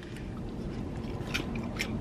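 Close, quiet chewing of peanuts, with small crunches and crackles of shells, soft bites repeating over a faint background.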